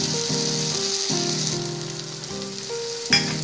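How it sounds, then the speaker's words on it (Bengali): Water poured into hot oil with fried poppy seed paste for Bengali jhinge aloo posto hisses and sizzles loudly and continuously up close, with a brief splash or clatter near the end and no talking. "এবার আমি জল অ্যাড করছি"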